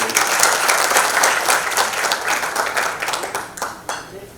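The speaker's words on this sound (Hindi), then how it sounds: "जोरदार ताली हो जाएंगे।" A crowd at an awards ceremony claps in sustained, dense applause, loud and close, with a few voices mixed in, tapering slightly toward the end.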